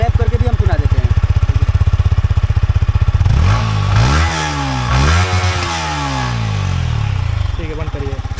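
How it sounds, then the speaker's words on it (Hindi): Close-up Yamaha R15 V4 motorcycle exhaust at idle, then revved hard several times with rising and falling engine whines before easing back to a steady idle. "ये था बाइक का एग्जॉस्ट का साउंड।"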